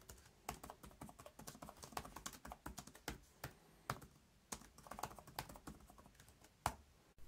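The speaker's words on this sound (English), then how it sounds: "The keyboard as well, a pleasure to type on. Let me give you a quick example of that." Typing on the keyboard of an HP Chromebook x360 14c laptop: quick, irregular runs of soft, close key clicks with brief pauses and a few louder taps, without any talking.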